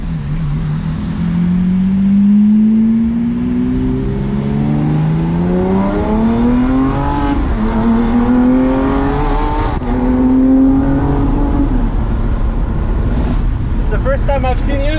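A Lamborghini Aventador SVJ fitted with a Balboni exhaust revs loudly and close, its engine pitch sweeping up and down in repeated rising climbs, while voices speak over it.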